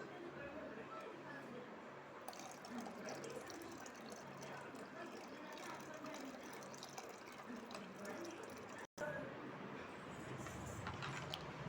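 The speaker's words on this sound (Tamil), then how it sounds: "தண்ணி ஊற்றிக்கலாம் இப்போ" Water pours steadily into a cooking pot of lentil dumpling curry, a continuous rushing splash lasting throughout, with faint background noise.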